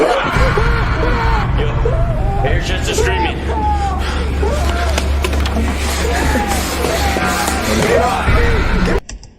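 A boy screams during a scary video, with frantic, wavering yells and cries over a noisy, chaotic background that cuts off abruptly at the end.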